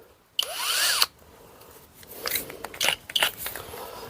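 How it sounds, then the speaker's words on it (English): Xiaomi electric drill on low torque mode, boring into the corner of a jade plant pot: a brief rising whine as the motor spins up, then quieter grinding, crackling and scraping bursts as the bit bites. "I've got one of these Xiaomi drills. I'm going to go for a low torque"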